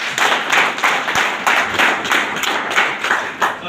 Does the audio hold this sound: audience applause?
yes